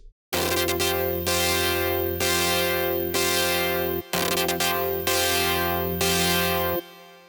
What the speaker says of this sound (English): Lead reverse chord is super unique and it sounds like this.